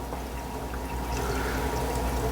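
Water drains out of a shrimp tank in a fish room as a steady, close, continuous pouring and trickling rush that swells slightly partway through, with no voices.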